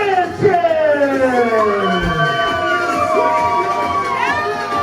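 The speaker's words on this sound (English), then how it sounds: "As a crowd erupts for the underground heavyweight champion, Muy Macho, King Macho, Biggie Sanchez" A large crowd at an underground heavyweight championship event erupts in loud, sustained cheering and shouting, with rising whoops and wavering high yells layered over a dense roar throughout.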